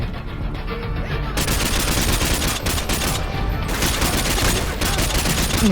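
Rapid bursts of automatic gunfire from a Call of Duty Modern Warfare 2 firefight, loud and dense, continuing almost without pause through the whole stretch.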